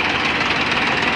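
Tractor engine running steadily nearby, a continuous loud mechanical drone with no breaks over the short stretch.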